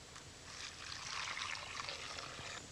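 Warm water poured from close by into a bowl of dried porcini mushrooms, a soft steady trickle lasting a few seconds at low volume, ending with a small clink.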